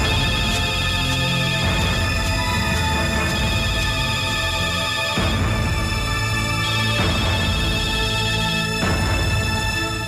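A telephone rings in a domestic scene from an Indonesian TV drama, its electronic ringtone tones repeating steadily for about ten seconds over a dense, busy background.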